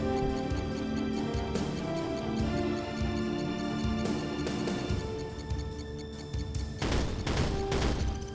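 Anti-aircraft gun in Command & Conquer Remastered Red Alert firing at Yak planes, a dense rapid stream of game gunfire over a continuous music and effects bed, with sharper bursts toward the end.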